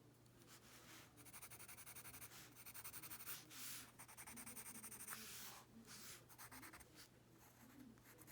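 Close, steady scratchy rubbing of a black pencil drawing lines on paper, continuous strokes with brief pauses, used while coloring a fashion illustration with markers and pencils.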